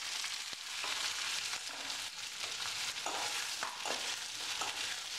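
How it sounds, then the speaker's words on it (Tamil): Mixed vegetables and onions sauté in oil in a pan while a spoon scrapes and stirs them, making a steady hiss with intermittent knocks and scraping strokes nearby, no voices. "இந்த காய்கறிலாம் போட்டு கொஞ்சம் வதக்கி விடலாம்."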